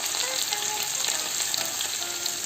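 Beef liver frying in a pan while being stirred, a steady, loud, close sizzle that holds evenly throughout with no voices.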